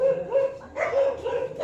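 Several stressed dogs barking and yipping in a repeated run of sharp, fairly close barks with short gaps, some whimpering tones between, and no talk over them.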